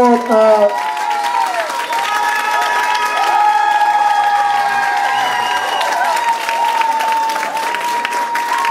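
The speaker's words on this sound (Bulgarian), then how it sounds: "Аплодисменти горещо ги подкрепяте" An audience at a street salsa school's tenth-anniversary event applauds and cheers, dense clapping sustained throughout with voices calling out and whistle-like tones above the crowd.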